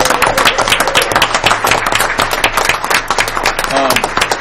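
A dense, loud round of applause from a crowd at a township board meeting, steady clapping filling the whole stretch.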